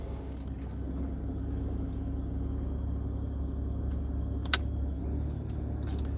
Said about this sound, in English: Now, I'm going to go ahead and start the vehicle.